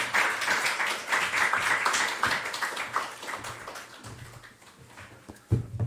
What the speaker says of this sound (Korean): 우리 박수로 우리 윤은성 목사님 진행하도록 하겠습니다